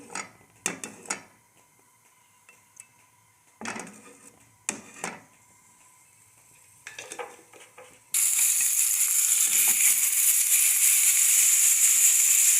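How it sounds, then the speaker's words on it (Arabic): Chopped onion sizzling loudly in hot olive oil in a pan as it begins to fry, a steady dense crackle that fills the space, after a few clinks and rattles of kitchen utensils. "غندير البصله تشحر. هنا كتشحر البصله ديالنا."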